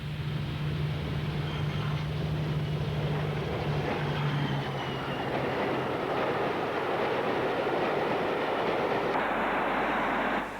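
A Class 52 Western diesel hydraulic locomotive passes close by, with a loud continuous rumble, a steady engine tone and wheel and rail noise that holds throughout.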